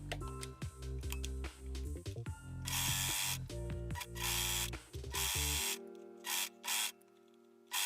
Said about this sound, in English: Now you will serge or zigzag stitch these two seams.